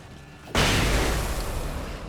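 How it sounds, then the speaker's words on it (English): A flashbang goes off in Alan Wake: after half a second of quiet hum, a sudden loud full-range blast hits and then rings and rumbles away as a long sustained wash. "Flashbang."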